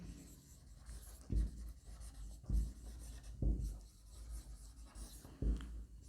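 Chalk or marker strokes on a board as a price elasticity of demand formula is written, quiet scratching punctuated by about five firmer taps at irregular intervals, no voices.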